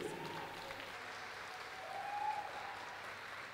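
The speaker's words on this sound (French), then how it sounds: "nous allons accueillir la candidate numéro 1 qui porte le nom de Manamba Kanté, que je vous demande d'applaudir" A distant audience applauds a singer contestant at an Ebola-awareness song contest in Guinea, a soft, steady patter of clapping with a faint tone humming through it.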